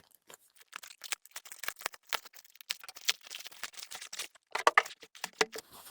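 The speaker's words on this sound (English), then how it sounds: "looks like I'm going to have to rip through" A plastic bag on a Dwarf Lab 3 package being torn open up close, with sharp crinkling rips and crackles in irregular bursts and brief pauses, and no voices.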